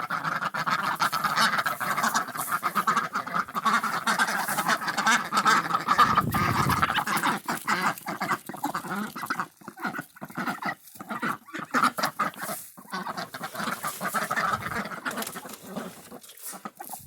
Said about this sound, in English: And now once the ducks are done eating their mealworms